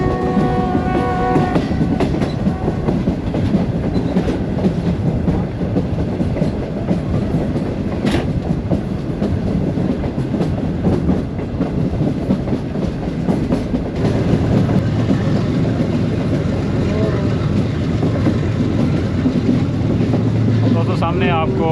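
A Green Line passenger train runs from Bahawalpur to Lahore, heard from an air-conditioned standard coach as a loud, continuous rumble and rattle with wind noise, sustained for the whole stretch.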